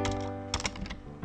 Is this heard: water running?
no